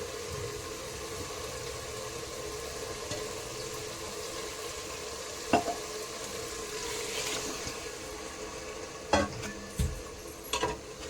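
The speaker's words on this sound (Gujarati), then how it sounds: "હવે આપણે એમાં ચોખા નાખી દઈશું." Rice being stirred into a sizzling pan of matar pulao, with a steady frying hiss throughout and a few louder scraping stirs near the end; no one speaks.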